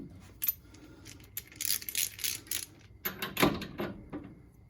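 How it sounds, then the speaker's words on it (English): Metallic clicks and clanks ring out as a torque wrench is worked on the brake bolts of a 1968 Ford Mustang, in irregular bursts of sharp ratchet-like ticks with short gaps between them. "So let's go back down to 60 on the torque wrench and see if we can get the top to line up."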